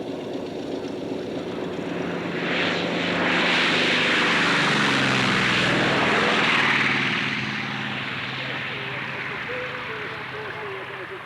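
Corsair fighter with a 2,804 cubic inch Pratt & Whitney Double Wasp radial engine flying at the 1992 Warbirds Over Wanaka airshow in New Zealand, a broad propeller roar that swells to a loud pass and fades, under a commentator's voice.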